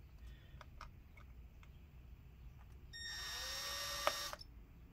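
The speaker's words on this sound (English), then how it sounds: "some of these come out completely when I drill it, even with the tiny one" A small drill whines in one high-pitched burst of about a second and a half, boring out screws on a Dell Inspiron 5575 laptop, after a few faint taps.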